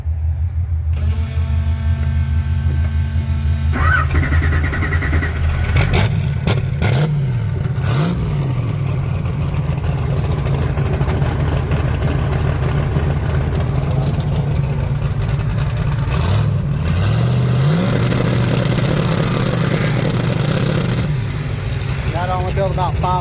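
A turbocharged 1980 Pontiac Trans Am engine idles loudly close by, then revs up repeatedly in rising bursts, with people talking over the engine.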